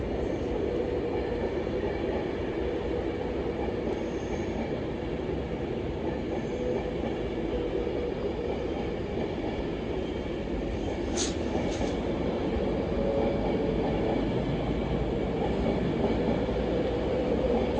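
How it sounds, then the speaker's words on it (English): A passenger train on the approach to Birmingham New Street runs past at Primrose Hill, a steady loud rumble of wheels and carriages holding across the whole stretch with a brief squeal partway through. "Coast service to Birmingham New Street will be here like right now"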